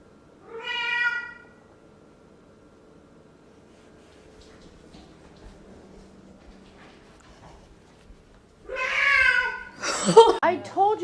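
A cat meows twice, one clear meow near the start, then a longer, louder mewing burst near the end overlapped by other sounds, with quiet room noise in between.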